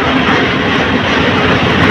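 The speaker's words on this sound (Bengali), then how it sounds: "কালুনি এক্সপ্রেস ট্রেনটি ভৈরব বাজার জংশন ছেড়ে যাচ্ছে এই যে" The Kalni Express train, hauled by a 2904 series locomotive, pulling out of Bhairab Bazar junction: a loud, steady, broadband engine roar and rumble that holds constant throughout.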